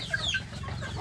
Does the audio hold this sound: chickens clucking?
yes